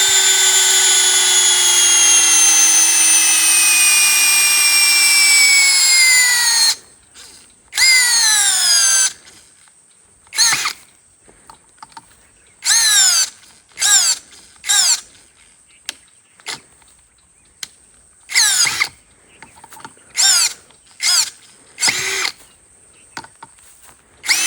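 Power drill driving a roofing screw: a long steady high whine for several seconds as the motor spins, then a series of short stuttering bursts with pitch sweeping down, each burst separated by silence, loud and close.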